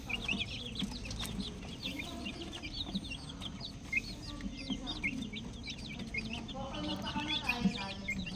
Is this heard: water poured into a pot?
no